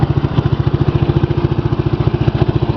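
A Gravely 810 tractor with a Kohler cast iron engine idles close by, giving a loud, low, evenly pulsing chug with a steady rhythm throughout.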